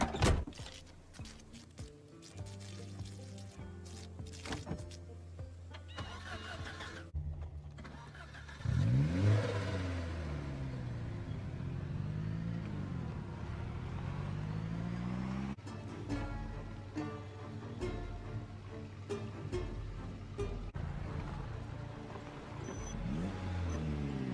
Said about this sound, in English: The first thing we hotwire is a cop car.